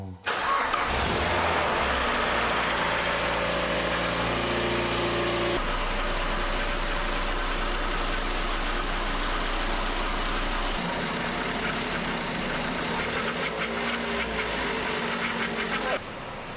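A Mazda MX-5 Miata NC's engine runs steadily through a drive, a loud continuous hum with a low drone that shifts partway through, with brief voices at the start.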